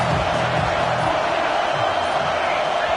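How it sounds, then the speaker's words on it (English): A stadium crowd at a college football game, NC State Wolfpack hosting Wake Forest, roars loudly and continuously for the home defense on third down, a thick sustained din with faint voices inside it. "The crowd gets behind this defense."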